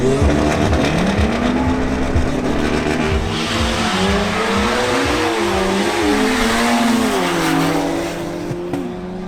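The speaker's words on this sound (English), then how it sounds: "Pablo Pertús in his BMW M135i commits a fault at the start" A BMW M135i revving at a drag race start, its engine rising and falling through sweeping rev changes with tire chirps, loud and close, then easing off toward the end with no talking.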